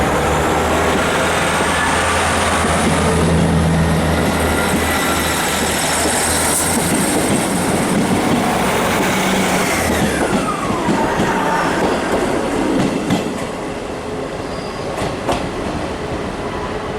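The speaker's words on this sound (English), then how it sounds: "ScotRail's Class 158s honestly do have a more whining, relaxing noise than the northern ones." A ScotRail Class 158 diesel train runs steadily with a constant engine whine and dense rolling rumble, a rising tone sweeping away midway, with faint rail clicks near the end.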